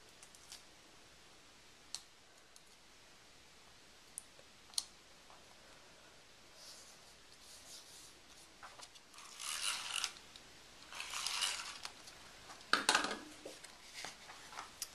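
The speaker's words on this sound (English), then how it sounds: "I'm just going to cut a little small piece of this coordinating paper" Scissors cut a small piece of coordinating paper for a layered banner birthday card. A few soft clicks come first, then two short bursts of rasping snips and a final sharp cut, all close and quiet with no talking.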